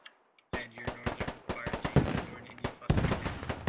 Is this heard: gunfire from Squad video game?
yes